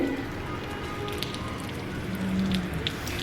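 Steady rain falling on a rainy day, an even, continuous patter of drops at a constant level throughout, with no voices heard.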